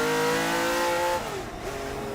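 A Ferrari 512 M race car engine sounds loud and close with a steady high-pitched howl, then its pitch dips and settles lower. No one speaks.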